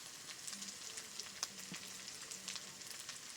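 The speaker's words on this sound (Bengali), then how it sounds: "মশলাটা বেশ সুন্দর করে কষিয়ে নিয়েছি" Onions cooked down with ground spices, salt and turmeric fry softly in a pan, giving a faint, even sizzle with light crackles. Occasional quiet spoon scrapes sound over it, with no talking.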